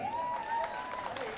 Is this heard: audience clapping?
yes